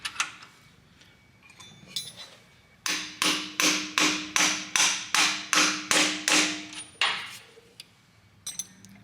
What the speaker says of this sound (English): using a 1-inch socket on an extension and then just hitting it in the hole with a hammer.